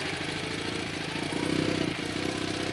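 A two-wheel-drive motorcycle chugs along in low gear, a steady mid-pitched engine throb with a slight swell in revs partway through, heard close but moderately quiet.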